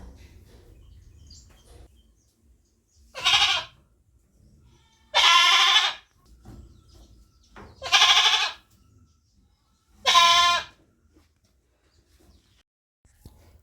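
Goats in an African village bleat four times, each cry loud and close and about a second long, spaced a couple of seconds apart over quiet rustling in between.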